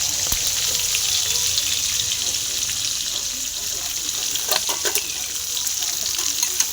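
Prawns frying lightly in oil in a pan with a steady close sizzle that runs throughout, joined by a few soft clicks and stirring scrapes toward the end.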